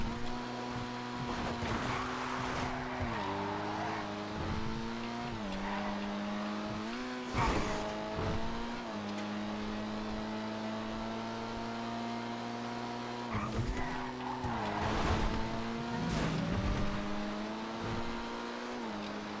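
A regular Jester sports car in GTA V on a FiveM server, with its engine droning and shifting pitch through repeated gear changes as it accelerates, the revs climbing and then dropping again with occasional sharp transients over roughly twenty seconds.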